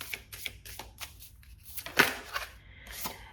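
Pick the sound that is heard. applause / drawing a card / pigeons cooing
drawing a card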